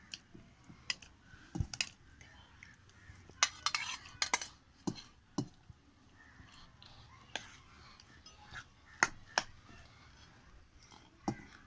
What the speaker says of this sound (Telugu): ఇప్పుడు మనం ఉడికించిన వెజిటబుల్స్ అండి ఇవి. చూడండి ఇవి వేసేసుకుందాం ఇందులో.